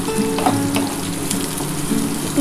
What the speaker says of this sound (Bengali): এবার এই পেঁয়াজটা একটু লাল লাল করে ভাজা হলে